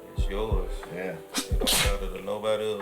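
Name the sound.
sneeze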